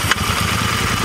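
A Royal Enfield Interceptor 650 motorcycle engine runs close up in a short burst, a steady low rumbling chug with a quick sharp transient at the start, alone with no talk.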